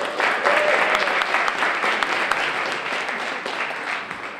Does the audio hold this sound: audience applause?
yes